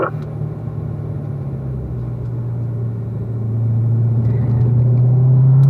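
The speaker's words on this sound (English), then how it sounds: "we'll keep accelerating in 4th gear up to the 3 marker" Race car on a track accelerating in fourth gear, heard from inside as a steady deep engine drone with rising pitch and loudness over several seconds, no voices.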